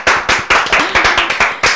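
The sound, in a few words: audience clapping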